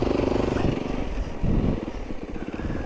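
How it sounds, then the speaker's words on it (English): A snow bike engine on a snowy Oregon slope sputters unevenly, close and loud, its rumble surging and dipping as it threatens to cut out. "The bike's wanting to cut out on me."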